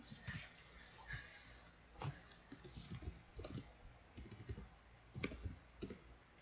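Computer keyboard keys clatter in quick bursts and short pauses while a search is typed, making clear close-up clicks over a soft room background.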